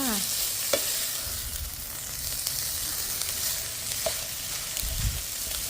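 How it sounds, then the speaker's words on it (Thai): Tuna fried rice stir-fried in a pan gives a steady close sizzle with occasional scraping stir strokes and a few knocks, no voices. "แล้วเราก็จะใส่ทูน่าลงไป วันนี้เราผัดข้าวผัดทูน่าจ้า"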